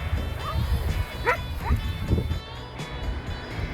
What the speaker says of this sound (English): Look, we got some dogs coming